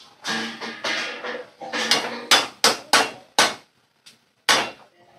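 A metal lid is set onto a biryani cooking pot, giving a series of sharp clanks and clatters, close and loud, with short gaps between the knocks.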